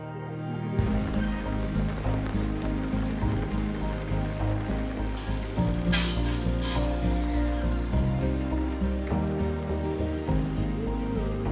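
Steady rain patters continuously on a surface nearby, a dense even hiss that holds throughout with little change.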